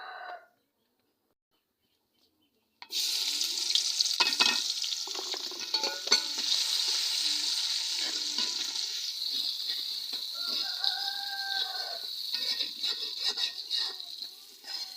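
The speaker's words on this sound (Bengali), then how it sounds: "এখন আমি এর ভিতর পেঁয়াজগুলো ভেজে নেব" Onions frying in hot oil in a wok, a sudden loud hiss after a brief silence that settles into a steady sizzle with occasional stirring clatter, while a rooster crows faintly in the background.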